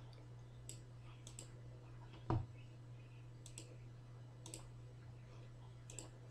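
A single sharp computer mouse click stands out near the middle over a steady low electrical hum, with a few fainter ticks around it, quiet and close.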